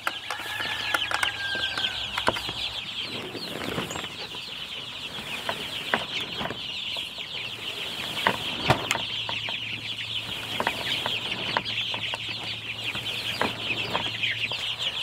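Chicks of a rare breed in a chicken tractor on fresh grass peep and cluck in a busy, continuous chatter, with scattered clicks and knocks from nearby movement.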